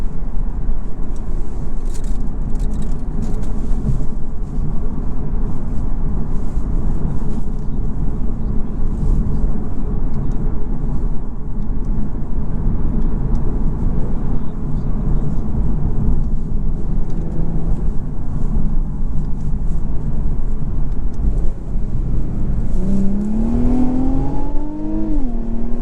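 A 2021 Infiniti Q50 Red Sport 400 accelerates hard with a loud, continuous engine drone and rising rumble heard from inside the cabin, ending with a climbing rev tone.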